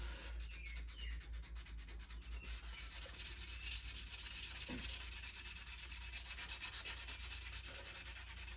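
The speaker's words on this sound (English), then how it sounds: "with that oil on there and me rubbing it with this fine sandpaper" Fine sandpaper with oil rubs back and forth on a knife blade made from a steel file, in quick, regular strokes close by, a steady scratchy rhythm with no talking.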